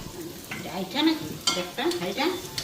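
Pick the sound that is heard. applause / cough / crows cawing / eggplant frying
eggplant frying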